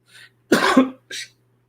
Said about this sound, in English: you caught me right in the middle of a cough